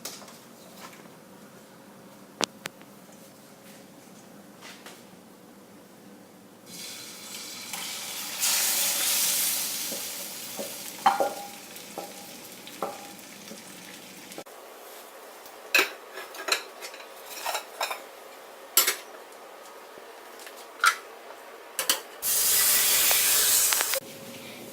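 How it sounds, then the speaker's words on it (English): Tortilla mixture cooks in a frying pan over moderate heat with a soft sizzling hiss that swells and fades, broken by scattered clinks and scrapes of utensils against the pan. "Tip your mixture into the pan and cook on a moderate heat."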